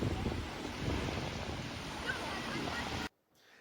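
Atlantic Ocean waves wash steadily onto the shore below the Dune du Pilat, a broad continuous surf roar with wind buffeting the microphone, cutting off abruptly near the end.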